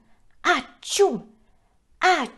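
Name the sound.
voice imitating a sneeze in a read-aloud story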